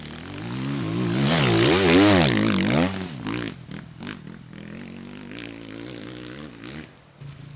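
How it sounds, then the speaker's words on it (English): A Sherco 300 four-stroke motorcycle engine revs hard at an extreme enduro race, rising and falling through a loud, wavering climb before dropping to a choppier, quieter idle with sharp throttle blips. "Don't you just love the sound of that Sherco?"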